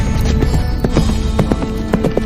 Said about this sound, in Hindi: और जब चाणक्य का घोड़ा घने जंगल तक पहुंचा तो घोड़े की टापों के साथ ही चाणक्य के मन में चल रहा शोर भी धीमा पड़ने ल